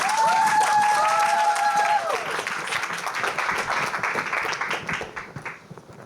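An audience applauds to welcome a speaker to the stage at an indigenous communities fellowship event, dense clapping and a few cheers at first that thin out and fade over several seconds.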